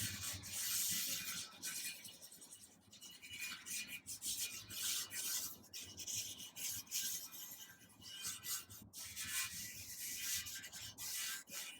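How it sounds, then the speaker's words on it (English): A steel bristle brush scrubs stripped paint off metal table legs in repeated rhythmic strokes, a harsh close scratching that surges and fades with each pass, with no one talking. "went over it with a steel bristle brush to remove the paint"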